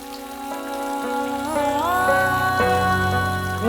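Rain falls steadily in the background during a storm scene, a soft continuous patter mostly covered by swelling music with no speech.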